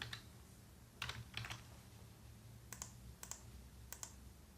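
Short bursts of typing on a computer keyboard while writing web code, a few quick clusters of crisp key clicks separated by pauses, close and quiet with no talk.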